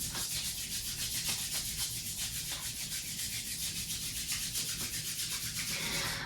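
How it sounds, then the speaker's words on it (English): Steady, continuous friction of palms briskly rubbed together during a yin yoga session, close and fairly quiet, with a fast back-and-forth rhythm and no talking. "Start to gather your hands at your heart. Begin to rub them together."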